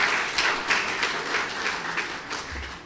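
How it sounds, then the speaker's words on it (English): Audience applause at a celebration, steady mid-loud clapping from a group, fairly even and unbroken over a few seconds. "I think she deserves a very big round of applause."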